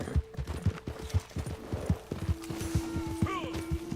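Horse hooves clip-clop steadily in Red Dead Online, a regular run of close, punchy footfalls that continues the whole time, with a faint game tone and a brief rising sound toward the end.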